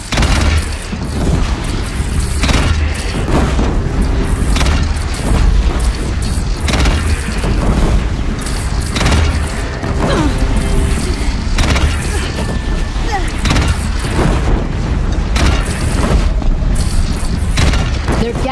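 Loud, continuous barrage of booming cannon fire and explosions during a bandit clan battle in the Horizon Zero Dawn video game, with heavy impacts repeating throughout and faint voices beneath.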